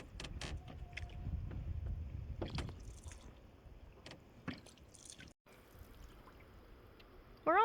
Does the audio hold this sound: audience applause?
no